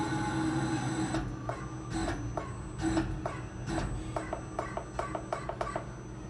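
CNC router with a DSP A11 controller lowering its axis toward a workpiece block: a steady motor whine with a series of short, evenly spaced mechanical clicks and ticks, close and moderately loud.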